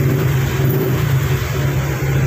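A PIAA horn wired through a relay on a Honda Click i125 v3 scooter blares in one loud, steady, continuous tone held for the whole stretch, close and unbroken.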